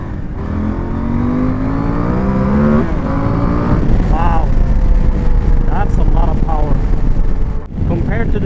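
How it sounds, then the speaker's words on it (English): KTM 890 Adventure R engine accelerating hard at full power, the rising motor note climbing through gears under strong wind buffeting, with a rider talking over it. "Now I'm getting full power from the engine. Let's try the acceleration."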